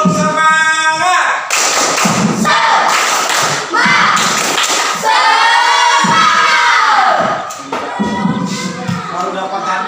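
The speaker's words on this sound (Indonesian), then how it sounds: "Tepuk semangat." Students in an Indonesian classroom do a rhythmic spirit clap, loud, close claps and thumps in patterned bursts mixed with crowd shouting and cheering voices.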